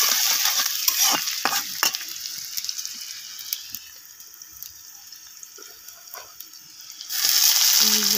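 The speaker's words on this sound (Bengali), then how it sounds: "আমি তেল দিয়ে কড়াইয়ের মধ্যে পেঁয়াজগুলো লাল করে নিতেছি" Onions and tomatoes fry in oil in a wok, giving a steady close sizzle with scraping stir strokes that grows louder near the end, with no talking.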